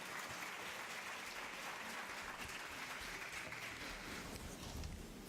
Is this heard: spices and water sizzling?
no